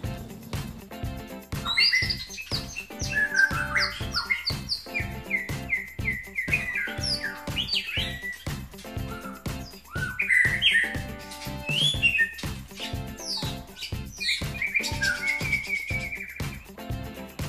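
A white-rumped shama sings loud, varied phrases of whistles, chirps and trills close by, repeating across the clip over a steady buzzing background.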